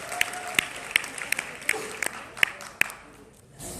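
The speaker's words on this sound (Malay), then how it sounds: "Berikan tepukan kepada mereka semua." Audience applause at a company meeting opening speech, sparse distinct claps spaced out over a few seconds in a quiet room, tapering off near the end.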